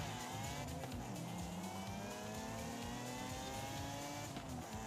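A Lamborghini Diablo engine in Forza roars steadily at high revs, its pitch sliding up and down through gear changes, loud and continuous with no talking.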